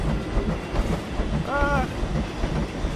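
A train rumbling past in the Planet Coaster video game, a low continuous rolling clatter with a brief squeal in the middle, mid-loud under faint background voice.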